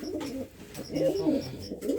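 Pigeons coo in low, rolling bursts at close range, a steady murmur of calls that swells and fades over two seconds with no speech.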